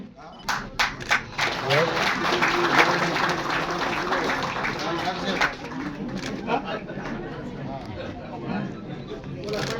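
Applause at a civic ceremony in Bhavnagar, where appointment orders are handed to municipal corporation employees. A crowd claps steadily and loudly throughout, with murmuring voices beneath it.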